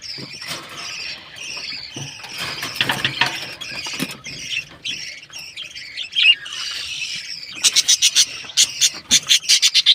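A yellow-green bird squawks repeatedly at close range, scratchy calls building into a quick series of sharp, evenly spaced shrieks at the end.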